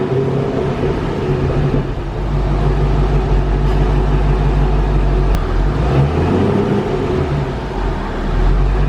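A supercharged Corvette engine idles with a deep, loud, steady rumble, its note shifting low and swelling slightly toward the end.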